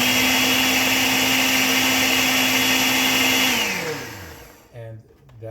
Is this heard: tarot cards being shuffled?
no